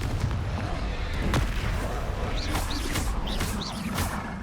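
Confringo fire spell bursts in the Hogwarts Legacy video game, a dense rumbling battle bed with a sharp blast and several quick whooshing, crackling impacts.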